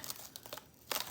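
Medium weight cardstock cut out on a Cricut Joy being handled, soft close crinkles and papery rustles in short bursts, faint and intimate.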